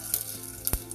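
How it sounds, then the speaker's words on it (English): Mustard seeds crackle and sizzle in a little hot oil heating in a pot for Karnataka-style avarekalu sambar, a soft steady fry broken by a few sharp pops and one louder burst near the end, close by. "We're going to add little oil to this. We'll add mustard seeds"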